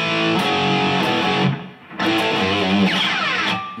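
Distorted electric guitar plays a riff, sustained crunchy chords with a slide down in the middle, loud and close with no talking.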